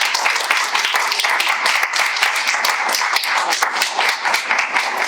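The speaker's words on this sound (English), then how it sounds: "Can we give ourselves a round of applause?" An audience applauds at the close of a theater panel discussion, with many hands clapping in a lively, dense patter that sounds close and fairly loud throughout.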